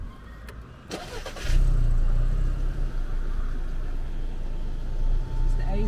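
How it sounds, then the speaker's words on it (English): A used car's engine briefly cranks and then catches, settling into a steady, close, rumbling idle that continues to the end. "Start the car."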